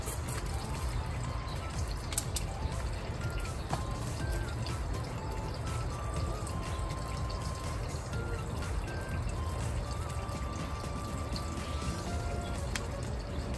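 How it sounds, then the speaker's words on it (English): Water poured onto a newly planted plant in garden soil, a steady trickling and splashing that runs continuously and fairly quietly throughout. "So we're gonna water a bit now."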